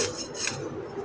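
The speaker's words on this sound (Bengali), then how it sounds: "মাছের আঁশ ছাড়িয়ে নিচ্ছি" Scales being scraped off rayna (veda) fish, a short rasping scrape repeated in quick strokes, close and fairly loud with no talk.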